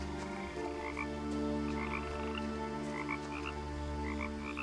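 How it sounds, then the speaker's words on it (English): Frogs croak in the game What Remains of Edith Finch, a steady chorus of repeated croaks over a constant ambient drone, with no talking. "Plenty of frog noises, but you can't give me a frog?"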